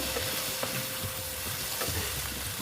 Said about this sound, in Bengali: আস্তে আস্তে একটু কষে নেব